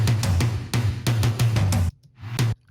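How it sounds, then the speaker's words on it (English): Layered real and sampled drum toms hit in a quick rolling pattern of punchy, booming strikes, then a brief gap before two final hits; close, loud and without voices. "So we've got real toms, sample toms,"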